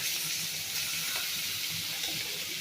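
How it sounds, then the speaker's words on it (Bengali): Pieces of small hilsa fish sizzle in oil in a wok in a village kitchen, a steady, even frying hiss that continues throughout at moderate volume with no talking. "তো সবগুলো মাছ আমি দিয়ে দিতেছি কড়ার মধ্যে"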